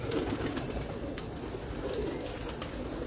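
Pigeons cooing in a loft among a fancier's birds, a steady low murmur of overlapping coos with busy ambient noise throughout.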